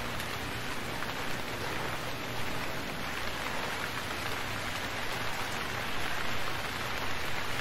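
Rain falls steadily in the survival video game Stranded Deep, a dense continuous patter on surfaces at an even moderate level.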